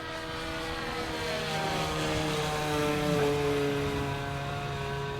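A Ben Buckle Super 60 model airplane with a two-stroke engine flies overhead, its high, buzzing whine holding steady and swelling slightly as it passes, heard alone without talk.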